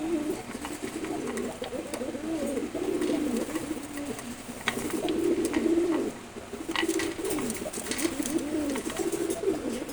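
Pigeons coo repeatedly close by, low rolling calls one after another over steady background noise. No speech is heard.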